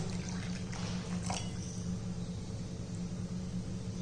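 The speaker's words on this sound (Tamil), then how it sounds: "கொஞ்சம் தண்ணி கலந்துக்குவோம்." Water is poured into thick millet porridge (kambu koozh), giving a faint liquid splash and trickle over low background hum, with no talk.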